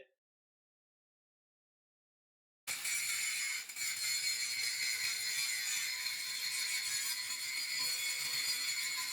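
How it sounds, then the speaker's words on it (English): After a few seconds of silence, an angle grinder with a grinding disc starts and runs steadily, beveling and cleaning up the inside edge of steel for welding on a 1995 Chevy Tahoe solid axle swap; loud, continuous, close. "Got the grinding disc on here now. I'm just going to put a bit of a bevel into this and clean up this inside edge."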